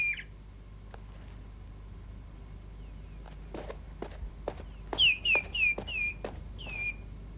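Quick rising chirps come from a pet bird in a cage: a short run of four or five bright, near tweets in the last few seconds, after soft footsteps and taps in a quiet room.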